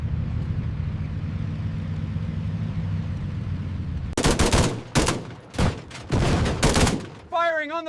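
Tank cannon and gunfire in a World War II video game, with M18 Hellcat tank destroyers against German Panthers. A low engine rumble gives way to several loud, sharp firing bursts close together, and a voice speaks briefly at the end.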